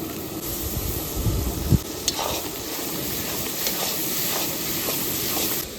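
Onions kept slightly raw sizzle steadily in a hot pan as a spice mix of cumin, ginger, garlic and chillies goes in, a close continuous frying hiss with a few soft clinks and stirring scrapes.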